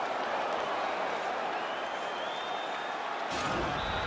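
Game crowd in EA Sports UFC 3 cheering and applauding after a knockout in a martial arts fight, a steady dense roar of clapping and cheers throughout, swelling slightly near the end.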